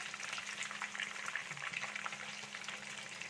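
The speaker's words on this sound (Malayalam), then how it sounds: "ഞാൻ മീഡിയത്തിലിട്ടിട്ടാണ് ഇത് ഫ്രൈ ചെയ്തെടുക്കുന്നത്" Chicken frying in oil over medium heat gives a steady, close crackling sizzle with dense bubbling that runs throughout, plus a brief soft stir or turn midway and no talking.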